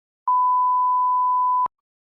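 A single censor beep covers a swear word: one steady, clean electronic tone lasting about a second and a half, loud and alone with no talk around it.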